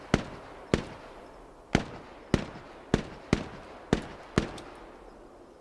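Gunfire in a war video game, with about ten sharp single shots spaced irregularly, each a loud crack with a short decaying tail over a quiet background and no talking.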